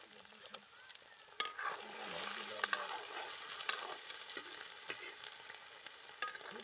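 Mola and gorai fish fry in hot oil, a steady soft sizzle broken by occasional sharp clinks and scrapes of a spatula stirring in the pan.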